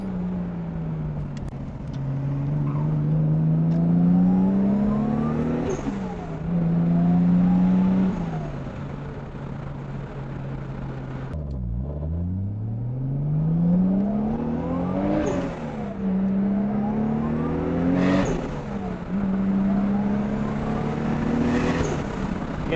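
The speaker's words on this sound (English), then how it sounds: "I'll do a couple kind of half throttle, half boost pulls, just kind of so you can hear a little bit more of the spool and the blow-off valve" A 1989 Nissan Skyline GT-R making about 525 wheel horsepower, with a screamer pipe wastegate, does repeated half-throttle pulls, engine note rising through gears with turbo spool and hissing blow-off valve bursts between shifts, heard from inside.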